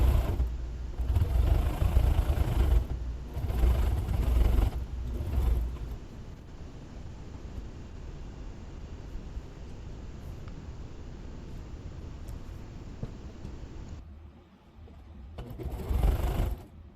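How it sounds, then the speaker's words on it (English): Sewing machine stitching quarter-inch side seams on a scrappy string bag, running in fast whirring bursts with short pauses, then a long steady humming run, close and clear with no talking. "So I'm just stitching each side, and I'm only doing about 1/4 of an inch seam allowance on that"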